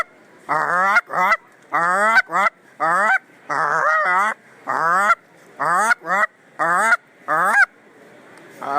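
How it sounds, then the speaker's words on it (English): Repeated loud honks in a steady rhythm of short, nasal calls, about a dozen in a row, sounding close and harsh, like geese calling, from geese flying in overhead during a hunt. "We got some geese coming in"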